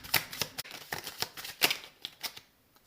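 Tarot cards being drawn and turned over, a run of crisp papery flicks and slaps in an irregular rhythm, close and clear with no talk, fading out near the end.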